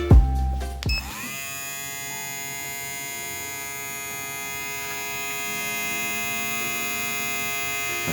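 VGR V-001 hair clipper with a fade blade switched on after a few handling clicks, then running steadily with a close, even electric buzz and hum that continues for several seconds.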